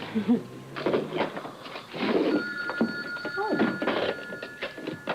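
A telephone in a 1988 soap opera scene is handled with clunks and knocks while a faint electronic ring tone sounds in the background. People talk over the sound.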